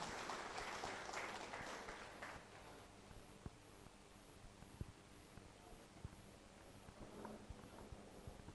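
Crowd applause for all the teams at the Namo Chashak 2024 cricket auction in Wai, a brief round of clapping that fades after a few seconds into quiet hall noise with occasional thumps.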